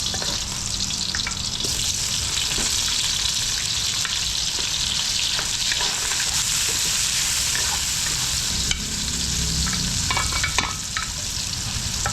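Steady, loud sizzle of food sautéing in a frying pan, with occasional scrapes and stirring clicks running continuously and close up throughout, no talking.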